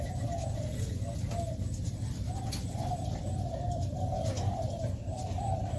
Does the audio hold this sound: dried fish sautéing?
no